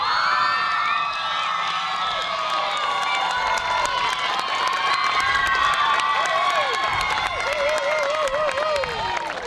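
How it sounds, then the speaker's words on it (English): A crowd at a secondary school girls' under-15 coxed eight rowing prize-giving cheers loudly and steadily, with high shouts, whoops and some clapping blending into a dense, sustained roar. "Great cheering, Rangi"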